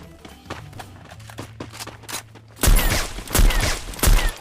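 Gunfire in a video game, a handful of sharp shots at first, then a loud burst of rapid overlapping fire near the end, close and punchy.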